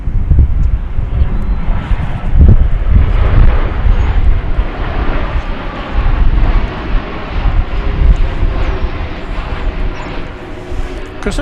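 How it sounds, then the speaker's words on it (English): An American Airlines Boeing 787-9 Dreamliner from Madrid, landing at DFW Airport, roars loudly and close with gusty wind buffeting, the rumble pulsing then easing toward the end. "Oh, the flight from Madrid. It's American Flight 37. It's a Dreamliner"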